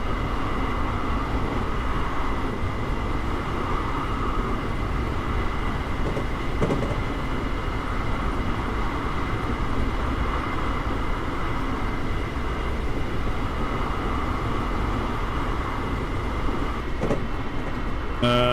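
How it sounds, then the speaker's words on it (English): A simulated Metrolink or Amtrak train rolls past in a Trainz simulator run, a steady loud rumble with rail clatter throughout and no talk. "It does pretty much sound kind of like that when the train goes by."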